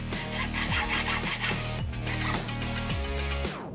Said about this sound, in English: Just going to cut a bit of the end of this box section off to make my tool.